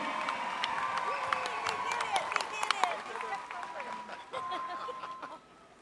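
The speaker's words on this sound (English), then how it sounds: "let's give a big round of applause to the Miss Indian World Contestants 2023" Audience applause for the Miss Indian World 2023 contestants at the Gathering of Nations powwow, a steady wash of clapping mixed with crowd noise, whoops and background voices, fading toward the end.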